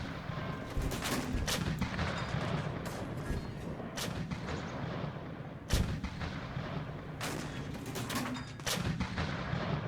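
Video game gunfire: repeated sharp gunshots at irregular intervals over a constant rumbling battle backdrop, with a few heavier, booming reports standing out.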